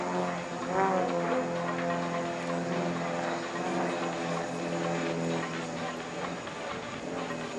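Display aircraft fly in formation at the RIAT air show, with one wingman rolling around the other two. Their engines give a steady, continuous drone with a tonal hum that rises slightly and then eases off.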